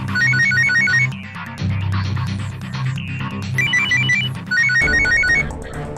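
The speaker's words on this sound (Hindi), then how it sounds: "फोन फ्रीजर में बज रहे हैं।" Several mobile phones ringing inside a freezer, their overlapping repeating electronic ringtone patterns sounding loudly over low background music.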